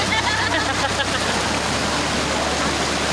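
Secret Falls waterfall in Doña Remedios Trinidad, Bulacan, pours in a dense, continuous roar, loud and close, with no break across the short stretch.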